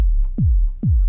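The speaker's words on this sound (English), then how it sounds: "Okay, so that's our kick sound." Synthesized kick drum built from a sine wave oscillator, two deep thudding hits with a fast downward pitch sweep, spaced about half a second apart, loud and clean with nothing else sounding.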